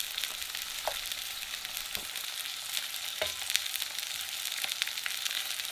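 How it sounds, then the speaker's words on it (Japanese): Cubes of lamb belly sizzling in a hot frying pan, a steady crackling hiss with scattered sharper pops, moderately quiet and close, no voices. "フライパンの温度が上がってきたところで、先ほどキューブに切ったバラの部分を一緒に入れていきます。"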